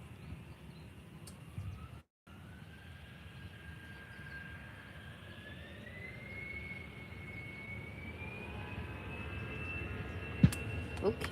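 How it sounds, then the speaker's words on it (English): Aer Lingus Airbus A320 jet taking off at Faro airport, heard fairly distant and faint as a rising engine whine that climbs steadily in pitch over a low rumble, with a brief dropout early on. "So Aer Lingus A320 now taking off."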